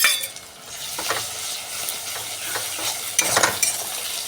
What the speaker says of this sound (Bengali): মাছটাকে বাদামি রঙের ভেজে নেব।